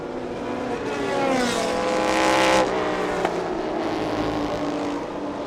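Porsche race cars lap a circuit on the final lap of a Thailand Super Series race. Engines rise as a car approaches and passes close by, then fade, over a loud continuous roar.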